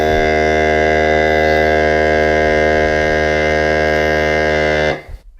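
An Allkeys vacuum sealer pumps air from a bag with a loud, steady electric motor hum rich in tonal buzz, holding evenly for about five seconds before cutting off abruptly.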